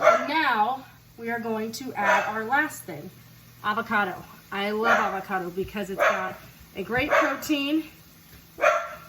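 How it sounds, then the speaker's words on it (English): A dog barks a few times in the background while someone talks steadily over it up close. "that's my dog. He's barking."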